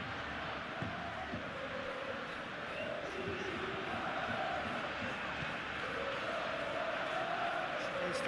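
Stadium crowd murmuring and cheering in a PES21 football video game, Copa del Rey semifinal between FC Barcelona and Atlético de Madrid, a steady wash of distant crowd noise with no sharp peaks.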